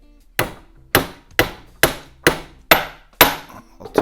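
A hammer taps a half-inch pin into a post hole auger on an old farm tractor, with seven sharp, evenly spaced metallic strikes, each ringing briefly before the next.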